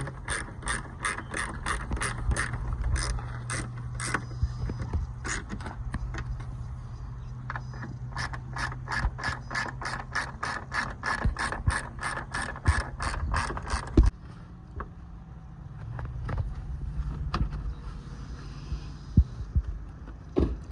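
Close ratchet clicking as screws go back into a Honda Civic LED spoiler, long rapid runs of sharp clicks over a low steady hum, pausing briefly before resuming at a slower pace.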